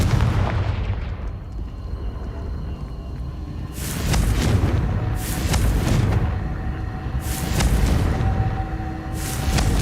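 Fire-blast impacts of the Confringo spell in Hogwarts Legacy, several loud booming bursts spaced a second or two apart over a rumbling background of combat noise, no talking.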